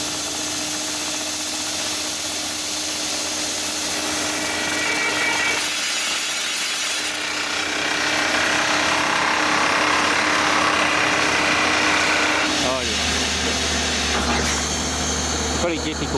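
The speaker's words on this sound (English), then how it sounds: "Got a big machine drilling today," A big drilling machine bores holes in hard basalt rock at a trench blasting site, producing a loud, steady mechanical grinding drone with rattling and shifting tones, heard close with someone talking over it.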